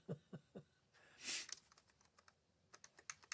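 Typing on a computer keyboard: a few soft, spaced key presses, a short louder clatter, then a quick run of light taps, close and quiet with no voices.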